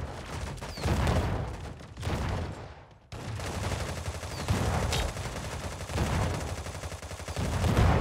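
Gunfire in the Sausage Man video game, repeated loud shots and rapid bursts cutting through a busy battle-royale soundscape, with a brief drop near three seconds before the firing resumes.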